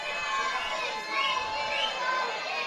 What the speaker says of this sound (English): So you can hear the crowd really getting behind him